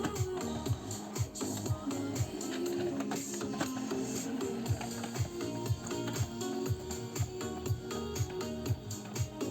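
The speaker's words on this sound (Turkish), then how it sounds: "şu an yazdırmaya başladı" An Epson M1120 inkjet printer prints at close range, with rhythmic mechanical clunks and whirring as the print head shuttles back and forth in a steady repeating pattern, and no voices.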